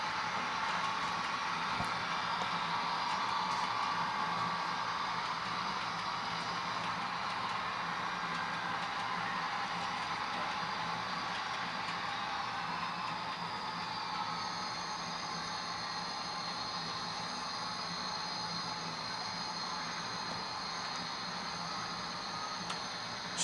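A model train on a layout eases into the yard along the inside main line, giving a continuous low rumble with steady hiss that stays even and close for the whole stretch, with no voices.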